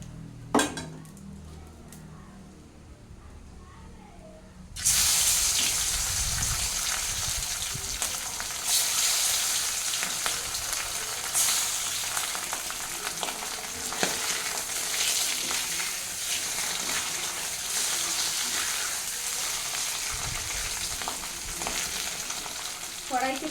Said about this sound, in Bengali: এরকম হালকা ভেজে আমি তুলে নেবো।